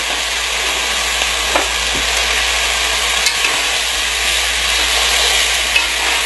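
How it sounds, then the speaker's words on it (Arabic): Tomato paste and mixed spices sizzle loudly in a hot pan for maqluba with chicken, a constant close frying hiss with occasional scrapes of stirring. "ضروري المعجون ينحمس، يعطيك نتيجة أحلى"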